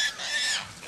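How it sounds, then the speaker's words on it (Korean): Wild boar squealing amid baying hunting dogs during a mountain boar hunt, a loud, shrill, tangled burst of animal cries lasting under a second. "사냥개와 멧돼지 소리가 한데 엉켜 온 산을 울린다"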